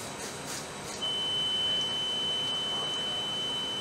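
A Graviner MK6 oil mist detector goes into alarm during testing with smoke detector test gas sprayed at its head, giving a steady, piercing high electronic tone that starts about a second in and holds continuously.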